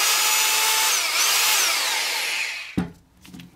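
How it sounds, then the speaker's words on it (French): An SDS Plus rotary hammer drill, used as a hammer and chisel tool, runs loud and steady for about two and a half seconds, then stops abruptly with a short clunk and faint rattle afterward. "c'est un marteau perforateur burineur"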